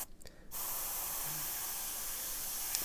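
An airbrush sprays paint at 20 psi, a steady continuous hiss that starts abruptly after a brief pause and runs evenly to the end, heard alone and close.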